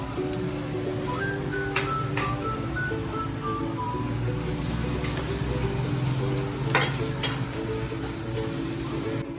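Ginger garlic paste sizzles steadily in a hot pan for egg rice, with a loud continuous crackle and occasional stirring scrapes, close up and with no talking.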